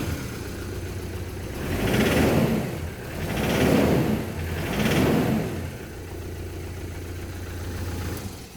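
A faulty, heavily smoking car engine with warning lights on runs steadily with a low rumble, rising in three swells as it is revved before settling back to a rough idle.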